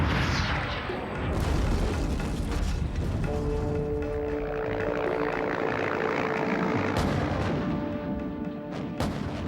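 Cobra attack helicopters fly in to strike tanks with TOW and Hellfire missiles, a loud roaring rotor and engine drone mixed with booming explosions and gunfire, dense and close throughout.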